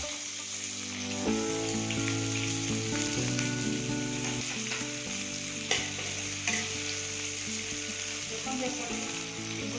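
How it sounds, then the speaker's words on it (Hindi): Chopped onions and garam masala sizzle steadily in hot oil for an Odisha-style prawn curry, a dense continuous crackle with occasional stirring scrapes over a sustained tonal musical bed. "तेल गरम होला गरम मसला पकाइबे, कटा पियाज को"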